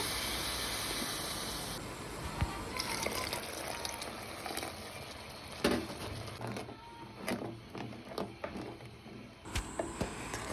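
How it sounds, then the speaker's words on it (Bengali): Hot water poured into a pot of khichuri as it cooks, a soft continuous gushing and hissing pour at close range, with a few knocks and clatters of the pot and utensil. "এরপরে হচ্ছে গরম করে রাখা পানি আমি দিয়ে দিচ্ছি পরিমাণ মতো"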